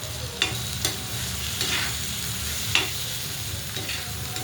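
Ridge gourd thecha with garlic and chili being stirred and fried in a pan: a continuous sizzle broken by several sharp spatula scrapes and knocks at irregular intervals, close and fairly loud.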